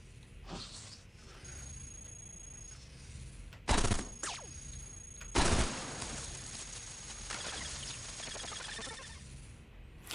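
Weapon fire from the roguelike game Cogmind as robots are destroyed, with two sharp loud broadband bursts and scattered crackling shots over a low electronic game background.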